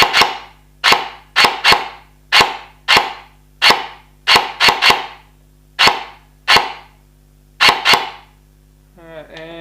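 A G&G ARP9 gel blaster fires in semi-auto, giving a dozen or so sharp, loud, close snaps at uneven intervals, followed by a brief electronic beep at the end.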